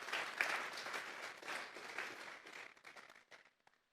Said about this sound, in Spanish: Vamos a dar un fuerte aplauso pues al Señor esta tarde